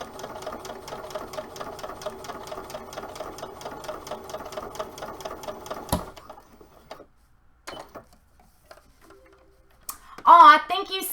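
A sewing machine runs a slow stretch stitch with a steady, rapid ticking whir for about six seconds, then stops; faint sounds and a brief voice follow.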